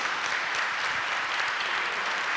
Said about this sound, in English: A lusty round of applause to our esteemed panel.